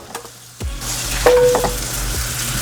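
Potatoes sizzle loudly in a hot pan, a dull knock setting off a steady, close hiss of frying that continues with brief stirring scrapes.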